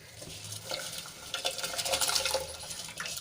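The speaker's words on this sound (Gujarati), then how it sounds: "ભાત બનાવવા માટે પાણી ઉકળી ગયું છે તો એમાં આપણે ભાતને ઓરી દઈશું" Rice poured into boiling water in a pot gives a soft, close watery rush and bubbling, rising in the middle and then settling, with no talk.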